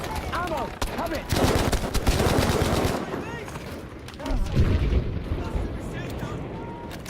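Dense, overlapping gunfire from the video game Battlefield 5, with rapid volleys and heavy bursts rolling through a loud, busy battle scene that swells and eases over several seconds.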